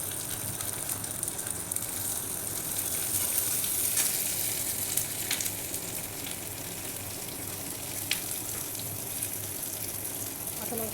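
Sliced onion and chopped garlic fry in hot oil with a steady close sizzle and scattered crackles and pops, a constant hiss with no speech over it.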